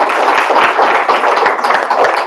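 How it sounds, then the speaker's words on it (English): Applause from a school board meeting audience for middle school leadership students, a dense, steady crowd clapping at close range throughout, with no voices over it. "Let's give them a round of applause"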